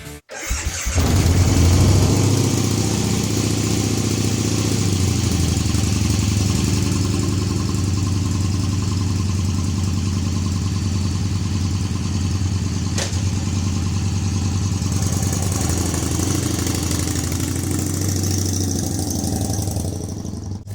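A vehicle engine with a slipping clutch and freshly flushed oil runs steadily and loudly for the whole stretch, a dense, sustained drone with little variation as it is driven around to warm up.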